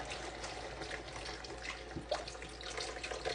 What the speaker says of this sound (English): I'm just going to add the rest of this beef broth.